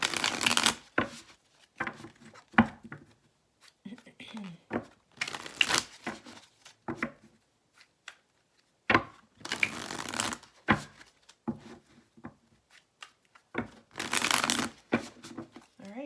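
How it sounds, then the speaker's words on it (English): Repeated bursts of tarot cards being riffled and shuffled, each a rapid papery flutter, close by, separated by brief pauses and light handling. "what I'm going to do first is shuffle the cards so I have them all ready to go."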